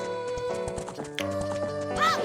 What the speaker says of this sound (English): Where's that horse going?